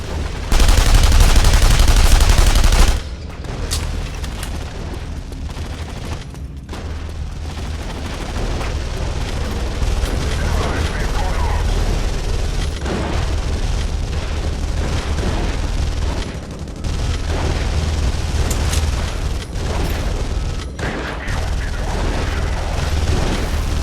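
Gunfire erupts in the video game The Saboteur. It opens with a loud, dense burst of shots and booms, then drops to a lower rumble of scattered gunshots and impacts that continue through the scene.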